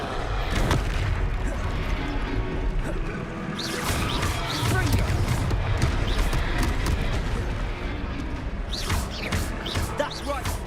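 Spell blasts such as Confringo explode in a Hogwarts Legacy battle, with dense booms and crackling impacts rolling continuously over busy game music and effects, loud and close throughout.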